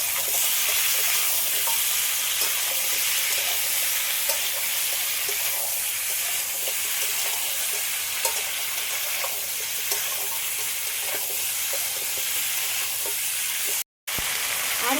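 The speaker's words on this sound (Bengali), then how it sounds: "এবার একসাথে এটা একটু ভালো করে একটু হালকা করে ঘুটে নিচ্ছি" A pan of pumpkin curry with bele fish and crab sizzles steadily, a constant frying hiss with light intermittent scrapes and clicks of stirring, close and continuous with no voices.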